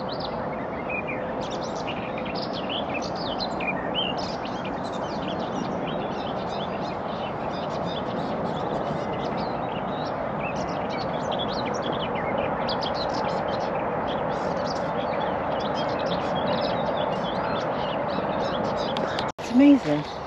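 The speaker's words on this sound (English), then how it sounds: "Can you hear all that bird chatter?" Dense, continuous chorus of many birds chattering and calling around Middleton Hall at a water park, steady and fairly loud throughout, with people talking over it.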